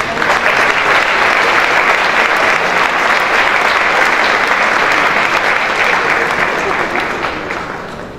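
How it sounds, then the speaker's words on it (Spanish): A large audience at a book presentation gives sustained, loud, even applause that holds steady for several seconds before gradually tapering off. "Brindémosles nuevamente un caluroso y fuerte aplauso"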